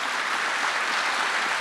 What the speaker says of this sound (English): So with that, I ask you to applaud our panel.